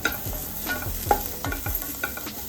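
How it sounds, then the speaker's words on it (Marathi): Grated coconut roasting in a pan with onion for egg curry: a soft sizzle broken by repeated spatula stirring scrapes and knocks, close and fairly quiet. "आता त्याच्यात खोबरा टाकायचा। आता पण चांगला असा भाजून घ्यायचा।"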